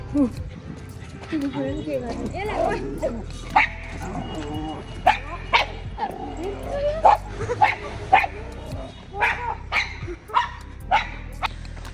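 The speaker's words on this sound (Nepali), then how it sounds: "ऊ अर्को कुकुर आयो, कोको जस्तै अर्को कुकुर छ त्यहाँ" A dog barks and yips repeatedly in short bursts outdoors during an evening walk, with a second dog nearby lunging; a person talks over much of the barking throughout.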